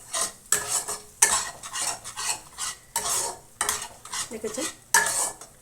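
A spoon scrapes and stirs chicken kofta curry masala as it sautés in a pan, making rhythmic bursts of metallic scraping over a low sizzle, with a brief spoken word.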